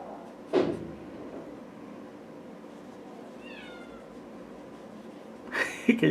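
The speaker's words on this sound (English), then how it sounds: "Can you hear the cat?" A cat meows indoors during a painting session, a few short, fairly faint calls in the middle, with louder knocks or thumps near the start and end.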